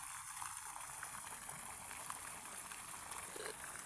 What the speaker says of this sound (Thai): น้ำไหลเวียนดีมากเลยนะคะ